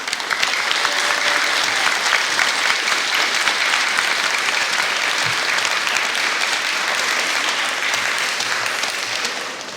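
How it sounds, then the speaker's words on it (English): A school audience at an elementary sixth grade recognition ceremony gives sustained, dense applause for parents and teachers, loud and steady throughout with no pause. "So you guys, can you give them a round of applause?"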